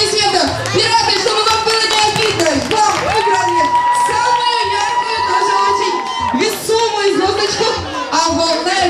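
An audience claps and cheers at a festive gathering, the applause mixed with a presenter's voice and a drawn-out musical tone throughout.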